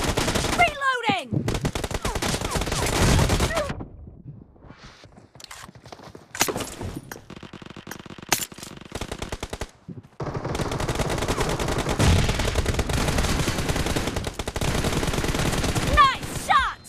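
Bursts of automatic gunfire from the video game BGMI rattle in long dense volleys, broken by short lulls with scattered single shots and footsteps, loud and continuous throughout.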